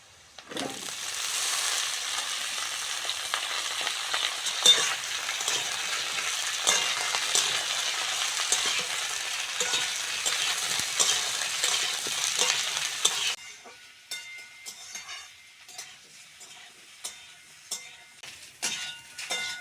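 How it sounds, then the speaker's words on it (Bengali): Cauliflower and potato frying in a pan, a loud dense sizzle with constant stirring scrapes for most of the stretch, then dropping abruptly to a quieter crackle with scattered clicks, close up and without talking. "ফুলকপি আলু ভালো করে ভেজে নিয়েছি"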